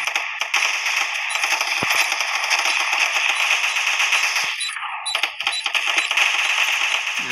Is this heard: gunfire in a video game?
yes